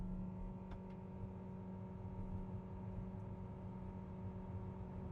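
A 2026 Geely Starray EM-i plug-in hybrid accelerates from 0 to 100 km/h on an open road, heard as a steady, low engine drone and hum from inside the car with no talk.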